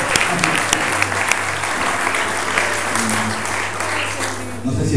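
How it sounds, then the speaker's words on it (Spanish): A church congregation applauds during a Spanish-language sermon, dense continuous clapping for several seconds, loud and close, with a low hum and some voices murmuring underneath. "Así que un aplauso para usted mismo"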